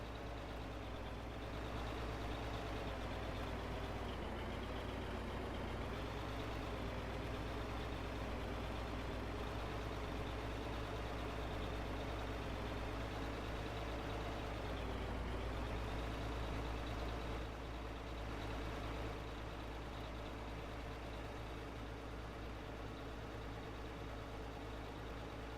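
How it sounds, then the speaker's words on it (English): A small dump truck's engine drones steadily for a long stretch while climbing a steep grade, a low labored rumble under strain that swells slightly midway, with no voices. "this little dump truck's taking this grade. This is steep grade."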